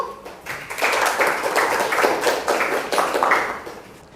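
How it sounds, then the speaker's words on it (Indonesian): Classroom applause from students after a lesson closes, a steady burst of many hands clapping together, fairly loud and sustained for several seconds before tapering off. "Beri tepuk tangan dulu."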